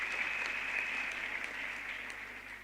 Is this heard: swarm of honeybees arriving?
no